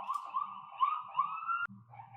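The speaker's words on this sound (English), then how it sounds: "Sirens every day." An emergency vehicle siren wails on a New York City street, a steady warbling tone that shifts and then cuts off abruptly before resuming, moderately distant.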